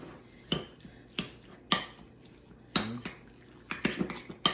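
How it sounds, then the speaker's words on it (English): Eggs and salmon being mixed in a bowl for a high-protein breakfast, heard as a series of sharp, separate utensil clinks and scrapes against the bowl, spaced irregularly over quiet background. "I'm gonna go ahead and mix this up"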